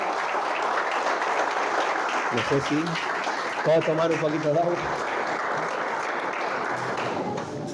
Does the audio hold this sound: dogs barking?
no